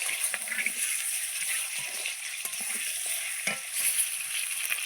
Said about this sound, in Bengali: ডিমগুলো লাল লাল করে ভেজে নিয়েছি